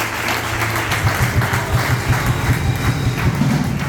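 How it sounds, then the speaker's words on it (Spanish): A church congregation at a Spanish-language service breaks into sustained, dense applause, many hands clapping steadily and close by with a few heavier thumps, filling the room for the whole span without any talk over it. "Denle un aplauso al Señor."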